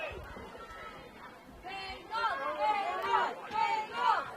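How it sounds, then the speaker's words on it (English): Crowd at a girls high school lacrosse semifinal, Brighton Bengals supporters, with a steady babble of voices that swells into rising cheers and shouts in the second half. "Crowd trying to cheer on these Brighton Bengals"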